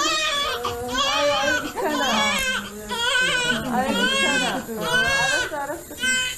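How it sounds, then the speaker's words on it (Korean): A newborn baby cries in repeated loud, wavering wails with short breaths between them, close and alone with no talk over it. "아기의 새로운 동행은 아기의 건강한 울음소리로 시작됩니다."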